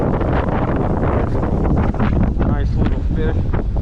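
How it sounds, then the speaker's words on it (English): Strong wind buffets the microphone in a loud, continuous roar while fishing from a dock by a waterway, with gusts swelling throughout. "I know you can hear this wind. It's crazy. It's like a hurricane out here"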